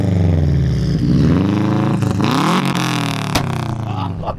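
A 2004 Subaru STI with anti-lag revs hard close by beside a big wall, its engine note rising and falling in repeated surges, punctuated by sharp pops and bangs from the exhaust.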